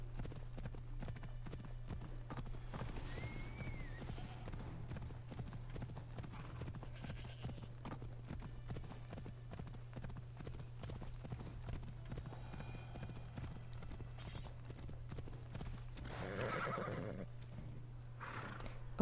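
A horse in the Assassin's Creed Odyssey video game gallops with steady clip-clopping hooves over a low droning ambience, broken now and then by a neigh, for a long continuous stretch.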